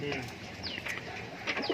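Fancy pigeons cooing in a loft, soft repeated coos and rising calls close by, with someone talking quietly underneath.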